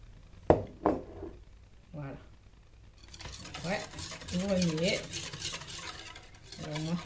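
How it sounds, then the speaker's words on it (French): Homemade shampoo mixture with a tablespoon of baking soda being stirred in a bowl, with a couple of sharp knocks at first, then soft scraping and swishing that continues under someone speaking. "On se mélange bien."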